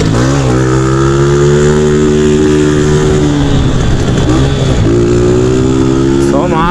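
A small, weak motorcycle fitted with a new carburetor drones loudly and steadily while being ridden, its engine pitch rising and falling with the throttle close to the microphone.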